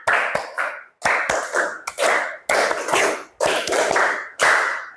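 A classroom group claps a counted rhythm twice over, giving a steady series of six loud, evenly spaced bursts of hand claps.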